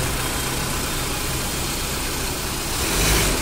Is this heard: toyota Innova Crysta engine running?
yes